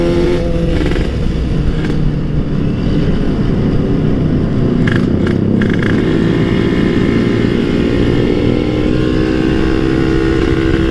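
Kawasaki Ninja two-stroke motorcycle engine on an uphill climb, a loud continuous buzzing drone with rising and falling revs, recorded close and steady throughout.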